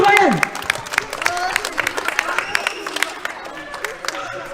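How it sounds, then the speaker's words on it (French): An audience claps and cheers in a burst of applause at a Beyblade Burst tournament in St Denis, strongest at the start and then settling into scattered claps beneath an announcer's voice. "Un tonnerre d'applaudissements pour Samuel."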